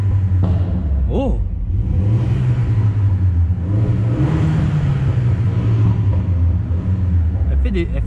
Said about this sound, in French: Ça pète comme ça parce que il n'y a plus de silencieux arrière. Ça a été remplacé par un tube inox.